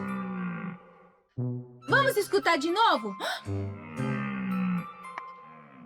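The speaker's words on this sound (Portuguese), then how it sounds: "Este é o som do veado." Deer call in a children's animal sound guessing game, a series of loud, wavering, pitch-sliding cries set between stretches of talk.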